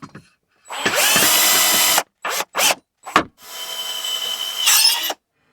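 A power drill drives bolts into a wall to fit a CUCESH horizontal indoor bike wall mount, its motor whirring in several loud close bursts: one long run, a few short stabs, then another extended spin.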